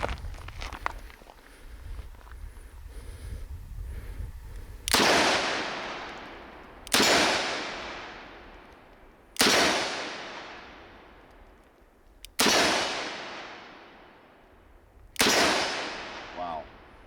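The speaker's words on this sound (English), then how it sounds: "Let's try from the kneeling with a revolver." Five loud, sharp shots from a Smith & Wesson 686 .357 Magnum revolver, fired from a kneeling position outdoors, spaced about two to three seconds apart, each ringing off in a long echoing tail after a quieter lead-in.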